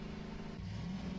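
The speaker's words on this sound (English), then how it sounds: "Ignore the engine noise" A Tesla Cybertruck engine in the Voices of the Void video game hums low and faint, a smooth, even whir that rises slightly in pitch near the end.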